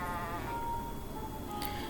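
Sheep bleating, a wavering drawn-out call over a steady background hum, close and moderately loud with no speech.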